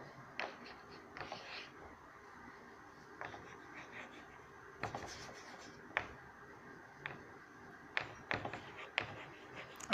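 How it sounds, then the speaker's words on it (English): Pen or marker writing an example on a board during a grammar lesson, heard as intermittent taps and scratchy strokes at moderate distance with faint room noise and no talk. "I shall write one more example here."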